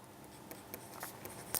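Faint, scratchy strokes of an equation being written out by hand, with light irregular taps building to a slightly louder stroke at the end.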